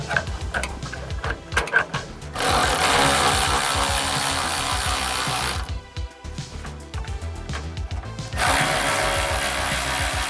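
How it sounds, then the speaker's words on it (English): A ratchet tool reinstalls a bolt on a Corvette C8 air deflector under the car, starting with clicking turns and then long steady buzzing runs of ratcheting, loud and close. "I'm just going to reinstall the bolt"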